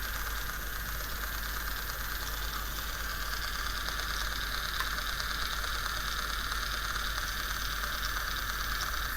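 Small electric motors of a cheap Chinese toy kit whir continuously, a steady close buzzing whine with a faint vibrating rattle and no pauses.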